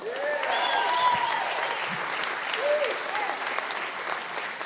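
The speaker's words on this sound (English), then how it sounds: "How about giving a round of applause to another level?" An audience claps for a performer at a live show, with steady applause running throughout while whoops and cheering voices rise above it, fairly close and loud.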